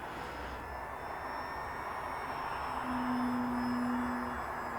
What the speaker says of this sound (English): I'm just trying to do vertiflying with all my RC airplanes just to get a sense how they are, and this one handles really well.